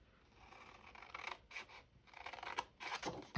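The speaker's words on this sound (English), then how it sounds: "We're going to get our scissors. We're going to cut up." Scissors snipping through paper cut into squares for a mini 3D craft swap, a run of crisp rasping cuts repeating close to the mic, with no talking.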